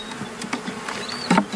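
Honey bees buzz around an open hive during requeening, a soft steady hum with several individual bees droning past close by, one louder pass near the end.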